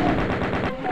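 Rapid machine-gun fire from the chaingun in The Ultimate Doom (Thy Flesh Consumed, 1995) rattles continuously and loudly for the whole second, a dense burst of shots with no pauses.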